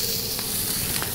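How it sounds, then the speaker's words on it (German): Morel mushrooms searing in a very hot pan give a steady, dense sizzling hiss, fairly loud and close, for just over a second with no talk. "Wir rösten quasi die Pilze jetzt erstmal ein bisschen an."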